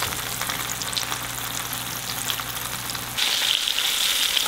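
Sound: fish fillets frying in peanut oil

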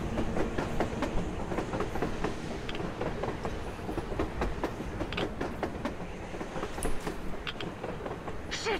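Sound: train passing on the surface, Metro Exodus video game

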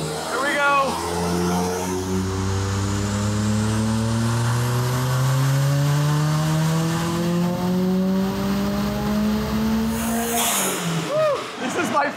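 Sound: Mitsubishi Eclipse GSX turbo engine during boosted dyno pull

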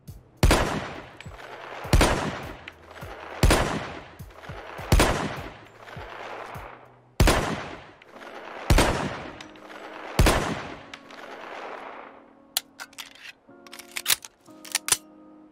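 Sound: Wildey Survivor pistol firing, Fallout 4 mod video game

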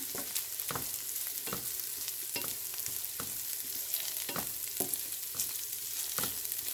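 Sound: ladies finger (okra) frying in oil

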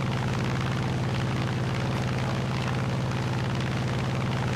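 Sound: aircraft flying overhead in War Thunder video game

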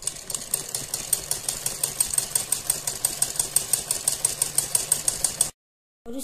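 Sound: sewing machine stitching a fabric strip

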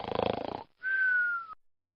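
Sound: snoring sound effect

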